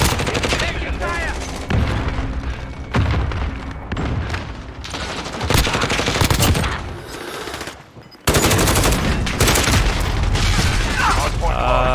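Heavy video-game gunfire in a multiplayer shooter, with loud, rapid machine-gun bursts and single shots layered with booms, close and near-continuous, a brief drop near the end, and someone talking over it.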